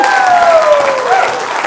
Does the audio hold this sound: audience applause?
yes